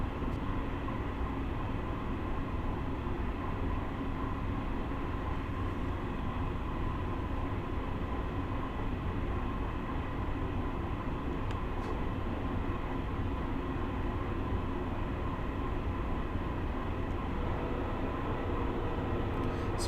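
Long Island Rail Road train running and slowing under braking in Train Sim World, a steady, moderately quiet rolling rumble with a constant low drone throughout and a faint higher hiss, no distinct clanks or horn.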